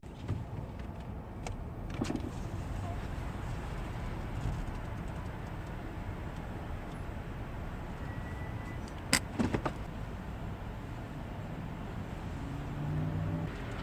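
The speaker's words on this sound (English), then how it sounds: "This traffic is a little bit much." Road traffic heard from inside a car gives a steady low rumble of passing vehicles, with a few brief clicks and knocks and no talking.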